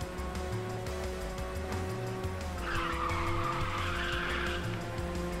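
Tires skidding as a car drifts in the Ridge Racer 6 racing game, a sustained screech rising over the steady engine drone for a couple of seconds, without talk.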